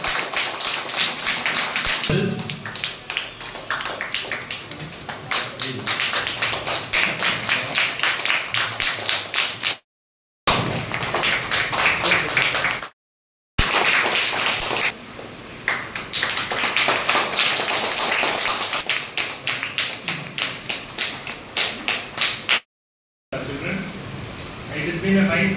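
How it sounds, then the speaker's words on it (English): Students clap hard and steadily at a school prize-giving ceremony, fast continuous rhythmic claps filling the room, broken by a few short silent gaps. "you should not stop the clapping"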